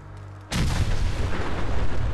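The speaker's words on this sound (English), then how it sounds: "You get a nuka grenade." A nuka grenade detonating in Fallout 4, a sudden heavy blast that breaks in after a quiet start and then rolls on as a dense, sustained roar.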